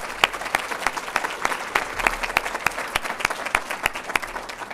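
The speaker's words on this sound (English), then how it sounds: "Let's another round of applause." A conference audience applauding steadily, many hands clapping in a dense, continuous patter at moderate distance.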